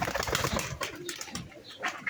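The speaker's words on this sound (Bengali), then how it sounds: "কবুতরটা একটু ধরে আপনাদেরকে দেখাই" A pigeon with a red eye ring being held by hand, giving soft coos and fluttering wing flaps close by, with other pigeons faintly audible around it.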